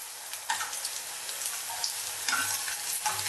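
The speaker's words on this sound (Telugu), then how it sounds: "సో చాలా జాగ్రత్తగా డీప్ ఫ్రై చేసుకోండి" Bread pieces deep frying in hot oil for a sweet bread haiwa, a steady close crackling fizz with brief louder bursts, no voices.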